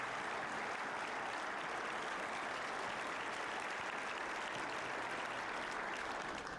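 Audience at a high school Veterans Day ceremony applauds steadily, a thick continuous patter of many hands heard from a distance without pause.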